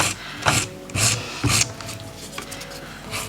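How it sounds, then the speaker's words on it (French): A nail file rasps gently over an acrylic nail capsule in slow, steady strokes, close and clear, with about five rough scraping passes and no talk. "je continue à limer doucement, doucement"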